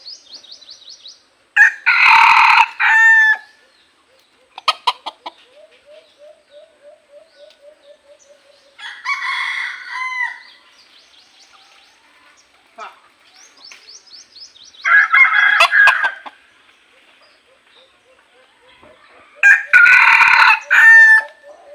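A red junglefowl breeder rooster crows four loud times at intervals, with softer clucks and chirps between the crows and near silence in the gaps.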